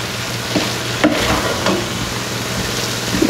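Food gets stirred in a hot pot during staple meal prep, a few scraping strokes of the utensil against the pot over a continuous low sizzle, close and fairly loud.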